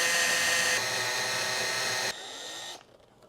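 Power drill boring a hole in wood for a candle sconce, a short loud whine that steps down in pitch and then cuts off.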